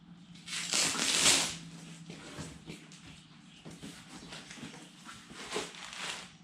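Crinkling and rustling of packing paper being handled and pulled from a box, with a louder burst early on, close by and without any voices.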